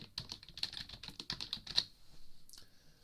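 Quick bursts of typing on a computer keyboard, light rapid key clicks in a quiet room, with a brief pause and a couple of final taps near the end.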